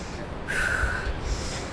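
A deep diaphragmatic breath is demonstrated during a breathing lesson, a single loud audible inhale that rises sharply and fades out, heard close up against a steady low background hum.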